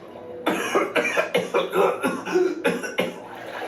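A rapid series of harsh, breathy coughs, close and loud, repeating in an uneven rhythm for several seconds.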